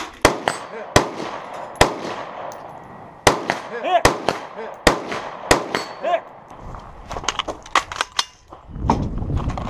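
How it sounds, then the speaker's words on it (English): Gunfire at a 3-gun shooting competition: a series of sharp, loud, near shots at an irregular pace, some spaced apart and others in quick bunches, with brief voices between them. "we'll have some shooting action coming up in a minute"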